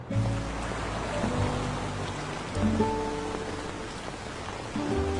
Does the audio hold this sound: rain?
yes